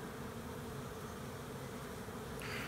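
A honeybee swarm buzzing densely and continuously, a thick steady drone of countless wings close by, with no voices over it.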